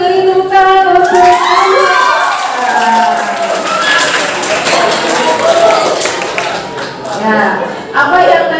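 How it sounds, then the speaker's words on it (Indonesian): A high-school class in a large guidance session claps for a student, the applause rising under voices and cheering, with talking heard before and over the clapping. "Boleh berdiri, beri tepuk tangan."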